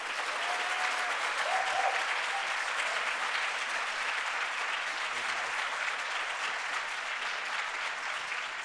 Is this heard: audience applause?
yes